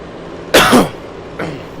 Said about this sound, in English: I can feel the cough coming back up again.